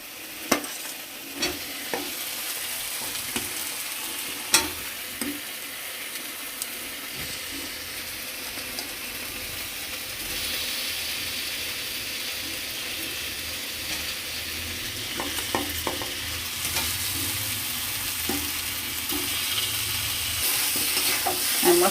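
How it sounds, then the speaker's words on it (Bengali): Fried potatoes being stirred and sautéed with cooked-down spice paste in a pan, with a continuous loud sizzle and repeated spatula scrapes and knocks throughout. "মশলার সঙ্গে আলুটা ভালো করে আর একটু কষায় নিলাম।"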